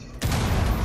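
A grenade explodes in Rainbow Six Siege, a sudden loud close-range blast that bursts in after a brief quiet moment and fills the space with a dense, crackling roar.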